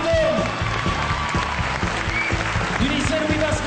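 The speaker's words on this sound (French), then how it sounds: "Je les applaudis encore très fort, s'il vous plaît." Audience applause at a student film award ceremony in France, dense steady clapping from a crowd with voices talking over it and faint cheers.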